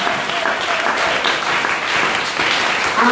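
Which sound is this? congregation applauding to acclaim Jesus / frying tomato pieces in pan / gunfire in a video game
congregation applauding to acclaim Jesus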